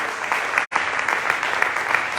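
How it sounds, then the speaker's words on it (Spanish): At a church service the congregation claps together, and the dense, steady applause fills the room. It breaks off for a moment before carrying on at the same strength. "Alábale, dale esa ofrenda de palmas."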